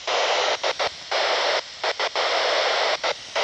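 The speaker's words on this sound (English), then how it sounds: "So hopefully you can hear that on the video. That's CW from a satellite." A CW Morse signal received from a Starlink satellite comes through a radio receiver as a loud hissy tone, keyed on and off in short and long bursts at close range, alone with no voices.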